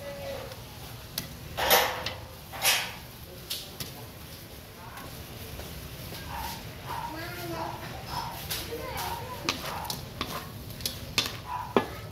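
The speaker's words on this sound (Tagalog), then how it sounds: "ininix ang ating hipon or shrimp. Kalahating kilo." Half a kilo of shrimp is stirred in a pan, with repeated scraping and clattering utensil strokes over a soft sizzle while a person talks throughout.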